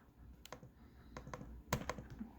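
Several sharp clicks from an HP Spectre x360 laptop touchpad with faulty clicking, spaced irregularly over a quiet background, with a louder cluster of clicks near the end.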